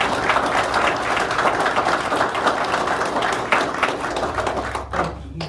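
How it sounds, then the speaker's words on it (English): A room full of people applauds officers' family and friends at a ceremony, dense sustained clapping at close range that continues evenly and begins to thin out just before the end. "let's give these family and friends a round of applause."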